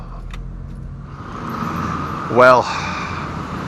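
A large car drives along a narrow street, its engine rising to a brief close pass before fading, while someone speaks briefly nearby.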